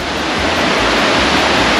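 A river rushes steadily in a continuous broadband wash, loud and close throughout with no voices.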